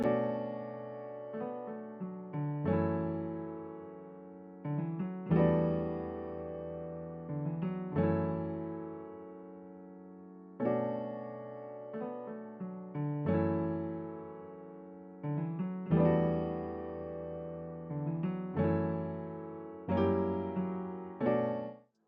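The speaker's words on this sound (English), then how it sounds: "I played out the second piano part" Piano chords played one after another in a slow, steady progression, each struck and left to ring before the next, with small connecting notes in between.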